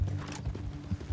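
A horse's hooves clip-clop at a walking pace in Red Dead Redemption 2, several soft, close, rhythmic thuds over about a second.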